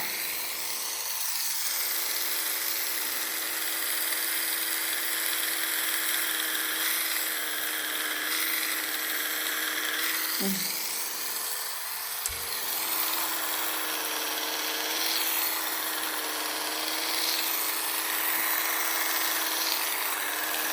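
A cheap electric epilator from Temu runs continuously with a steady high-pitched motor whine and faint buzzing, close to the listener, and the pitch shifts briefly a couple of times as it presses against skin.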